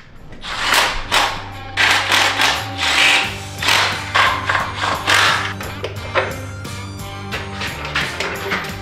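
Ratchet driving bolts into a truck transmission during a Ford Dentside Cummins swap, with repeated clicking pawl bursts and metallic clanks, close and loud in a workshop.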